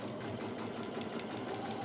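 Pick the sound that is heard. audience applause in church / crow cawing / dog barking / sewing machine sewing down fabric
sewing machine sewing down fabric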